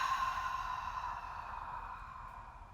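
A long, forceful exhale during an ab-bracing exercise for back pain, a steady airy breath that slowly fades over a few seconds, close and alone.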